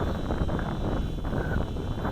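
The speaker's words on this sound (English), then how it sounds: "There's a real strong wind blowing here, folks." Strong wind blows outdoors during a small quadcopter drone flight, a constant loud rushing buffet on the microphone with no pauses.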